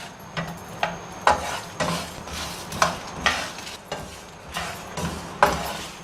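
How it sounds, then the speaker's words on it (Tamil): Coriander, cumin and fennel seeds dry-roast in a pan, with clustered crackles and light pops repeating at close range about every half second. Utensils stir faintly in between, and nobody speaks. "நமக்கு இப்போ இந்த மல்லி சோம்பு சீரகம் எல்லாம் பொரியும் பாருங்கள், சத்தம் வரும்"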